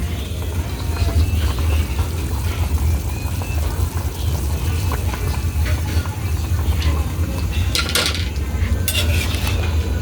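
Papaya pieces go into a pot of chicken soup with moringa: steady clinks and scrapes of a utensil against the pot over a constant low bubbling hum, with a few sharper knocks near the end.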